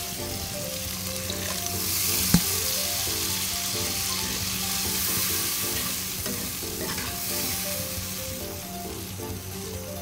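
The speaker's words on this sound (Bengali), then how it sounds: "এখন এর মধ্যে জল দিয়ে দেবো।" Fried spice paste in a Bengali prawn curry pan sizzles and is stirred with a spoon as water goes in, steady close bubbling hiss with scraping strokes and one sharp clink near the start, no talking.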